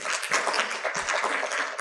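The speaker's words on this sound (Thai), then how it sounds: "ขอเสียงปรบมือให้กำลังใจทั้ง3ท่านด้วยครับ" Audience applause for three panelists at a seminar, a dense, steady wash of many hands clapping at moderate level throughout, with no speech over it.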